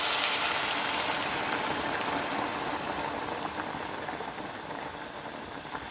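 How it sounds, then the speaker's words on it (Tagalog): Hot water pours into a pot of pork sinigang in a steady, rushing splash that holds close and loud, easing off slightly toward the end. "So, lagyan ko siya ng hot water."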